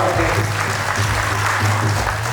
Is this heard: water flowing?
no